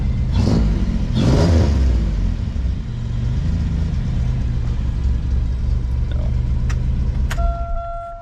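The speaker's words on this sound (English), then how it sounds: "Little rev." A 1999 Pontiac Grand Am with a swapped 3.5 engine revs twice in quick succession, loud and close, then settles into a steady idle rumble with a faint beep near the end.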